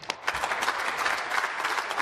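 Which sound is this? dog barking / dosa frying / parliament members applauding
parliament members applauding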